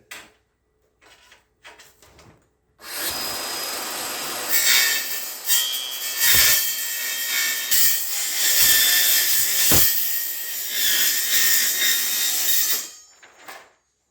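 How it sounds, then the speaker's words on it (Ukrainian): A GKM metal-cutting saw cuts through a Bismat mounting profile with a loud, sustained high-pitched grinding screech that lasts about ten seconds, with brief breaks. A few faint clicks come before it, and a near-silent tail follows. "Я хочу зупинитися на пілці по металу GKM, як вона буде різати."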